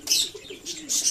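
Pigeons coo softly in rainy weather in Kolkata, a brief close murmur of low cooing under a hiss of falling rain.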